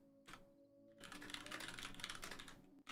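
Rapid clattering of keys on a computer keyboard, close and continuous after a short burst and a brief pause, over a faint background hum.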